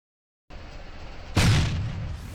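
A custom-built tank in a sandbox building game fires its gun once, a sudden loud boom that rolls off into a long rumbling tail over a steady engine-like hum.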